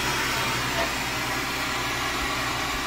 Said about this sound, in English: We gotta open this valve back here. The vacuum out.